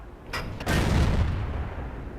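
A tank's main gun fires in World of Tanks, the Su-122-44 tank destroyer, a single loud booming shot with a sharp attack and a long rumbling decay.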